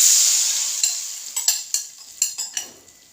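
A pan of beef brain masala is stirred while it fries: a steady sizzle runs throughout, broken by a series of sharp scraping and clinking strokes from a utensil against the pan in the second half, close and fairly loud.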